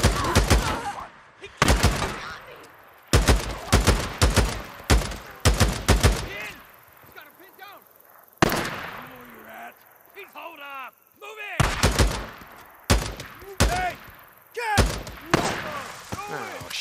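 Heavy gunfire in the video game Days Gone comes in loud repeated bursts and single booming shots, separated by short gaps, with groans and shouted voices between the volleys.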